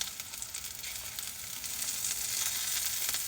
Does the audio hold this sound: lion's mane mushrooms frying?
yes